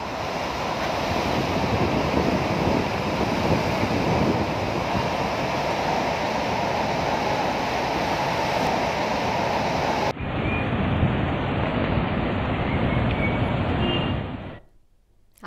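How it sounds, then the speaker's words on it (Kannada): Heavy monsoon rain and the swollen Sharavathi river thunder over Jog Falls in a loud, unbroken roar that stays dense throughout, shifts abruptly partway through, and drops away at the very end; no one speaks. "ವಿಶ್ವವಿಖ್ಯಾತ ಜಲಪಾತದಲ್ಲಿ ಈಗ ವರ್ಷಧಾರೆ ವೈಭವ ಜೋಗದಲ್ಲಿ"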